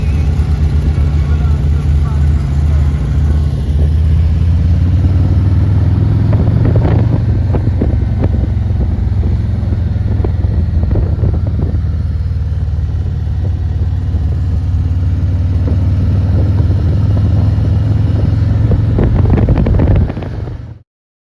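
Motorcycle riding on a road near Copperopolis, a constant loud engine drone with heavy wind buffeting the microphone throughout, ending abruptly near the end.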